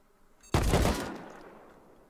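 A single sharp blast from base turrets in the video game Rust, sudden and loud, trailing off in a brief echoing decay.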